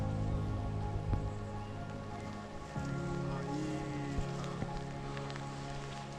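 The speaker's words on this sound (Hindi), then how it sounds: "बारिश स्टार्ट हो गई अचानक से, माहौल एकदम धुंधला धुंधला हो गया है।" Sudden rain patters on a mountain trek to Kuari Pass, soft scattered drops and rustling under a low tonal hum, fairly quiet and continuous with a few brief knocks.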